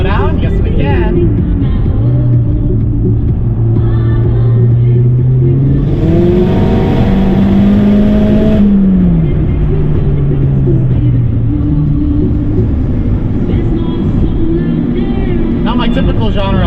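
A tuned Mazdaspeed 3 accelerates hard from inside the car, the engine note climbing steadily and loudly, then dropping as it backs off, with music and voices running underneath throughout.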